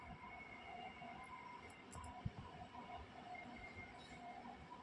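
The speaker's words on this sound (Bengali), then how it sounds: "ট্রেন দেখতে পাচ্ছ তোমরা? ওই দেখো," A train passes at a distance with a faint, steady rumble of wagons rolling along the rails, a thin high squeal and a single sharp clank partway through.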